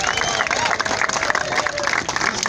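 A crowd applauds and cheers for Cal Ripken Jr.'s birthday, a dense, steady wash of clapping that holds at full level throughout, with scattered voices mixed in.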